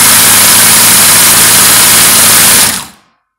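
A Brother sewing machine fitted with a replacement motor meant for old mechanical machines runs at full speed with a loud, steady high-pitched whine and hum, then winds down and stops abruptly near the end.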